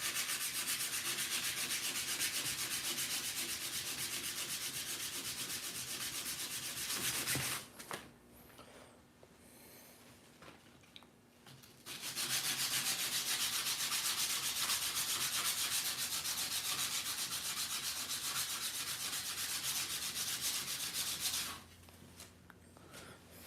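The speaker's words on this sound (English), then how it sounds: "So I'm going to sand the last side, then we'll clean it up with some alcohol." Sandpaper rubs back and forth by hand on a tarnished model railroad weight, a close, steady scratchy rasp in two long stretches separated by a quiet pause, with a short burst at the end.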